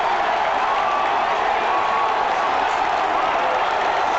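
Stadium crowd at an A-League semi-final between Western Sydney Wanderers and Brisbane Roar roaring after a goal, a loud, continuous wall of cheering and clapping that holds steady throughout.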